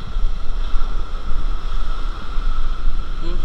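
Strong typhoon wind roars steadily and loudly at a beach resort during Typhoon Tino, buffeting the microphone hard with continuous low rumbling gusts, and no voices can be heard.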